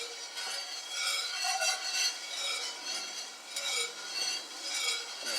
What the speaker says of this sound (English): it's not that bad to stand here and give the coffee a stir